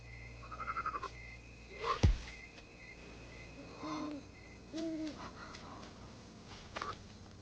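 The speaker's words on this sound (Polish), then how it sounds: "Żaba po zwłokach przeskoczyła, czy o co chodzi?" A frog croaks a few times in Black Myth: Wukong, short quiet calls spread over the clip, with someone talking faintly at moments.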